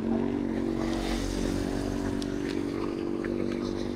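A motorcycle engine runs steadily nearby at a constant idle with a low, throbbing drone, no revving, continuous throughout.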